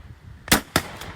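Two sharp shotgun reports at a driven high-bird game shoot, a loud near crack followed by a second shot about a quarter second later, each with a brief outdoor tail.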